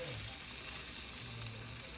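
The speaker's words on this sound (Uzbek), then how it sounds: "Qaynonam bilan baliq qovuryapmiz mana." Fish fries in hot oil with a continuous close sizzle and crackle at a fairly low, even level, with no talk over it.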